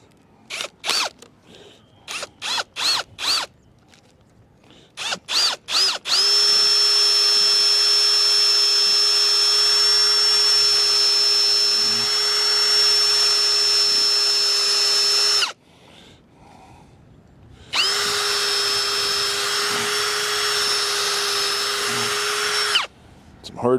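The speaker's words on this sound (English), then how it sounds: "So right about here is where I'm going to drill my hole in." A power drill boring a hole in hardwood for a shed anchor: a few short trigger bursts, then a loud, close, steady whine running for about nine seconds, a brief pause, and another long run.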